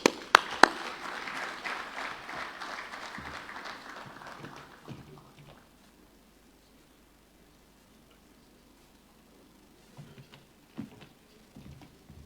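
Audience applause after a vote of thanks at a competitiveness summit, a moderate clapping burst that fades out within about five seconds, followed by near silence and a few scattered sounds.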